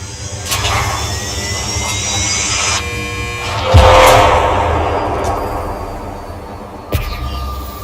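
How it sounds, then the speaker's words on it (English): Spacecraft landing gear deploying in Elite Dangerous, a Nomad ship: a sharp mechanical thud followed by a rising whirring surge over a steady engine hum, with a second clunk shortly after. "Landing gear deployed."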